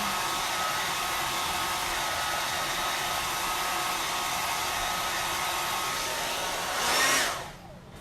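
A hair dryer blows steadily to dry chalk paste on a wooden pumpkin, a close, constant whooshing hum that swells briefly near the end and then cuts off.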